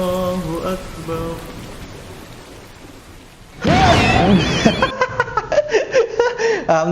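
Rain falling on a house at night, a steady hiss of drops that grows louder and denser partway through, with people chuckling and talking over it.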